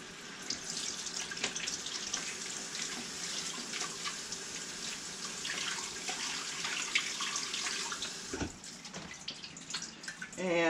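Vegetables for potato salad are rinsed under a running kitchen tap, a steady hiss of flowing water with splashing and occasional clunks in the sink, fairly close and unbroken, briefly interrupted near the end.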